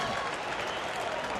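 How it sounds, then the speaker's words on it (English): Baseball crowd at a Cincinnati at Colorado game letting out a Bronx cheer, a dense, loud roar of mixed jeers and applause filling the whole moment. "And the Bronx cheer."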